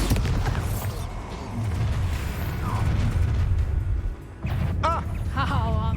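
Bombarda explosion spell cast in Hogwarts Legacy video game, heavy booming blasts and rumbling bursts amid combat noise, with a brief drop before more impacts and voices shouting in the fight.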